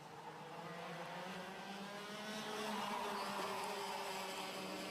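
X30 junior karts race through a corner at a 2020 championship round, their high-pitched two-stroke engines blending into a faint, steady, distant drone that swells slightly as the pack passes.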